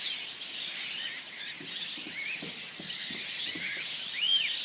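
Small birds chirp and tweet faintly at a zoo, scattered short calls over a steady hiss of background noise, with no one speaking.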